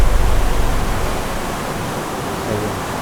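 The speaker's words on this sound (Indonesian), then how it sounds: "Ini ada sungai air." River water flowing behind a humid building, a steady loud broadband rush that stays even throughout and is heard alone with no voices.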